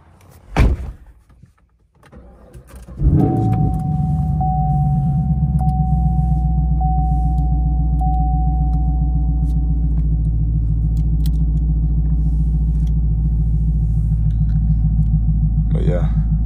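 A 2019 Chevrolet Camaro SS V8 cranks and fires after a door thump and a few clicks, then settles into a loud, steady, deep idle rumble that holds close by, with no talk over it.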